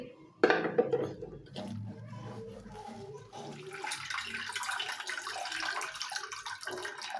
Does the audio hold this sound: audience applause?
no